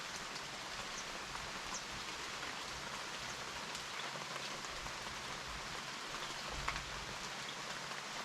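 A passing rain shower falls on leaves and ground under a santol tree outdoors, an even, continuous patter and hiss at moderate volume with no talking.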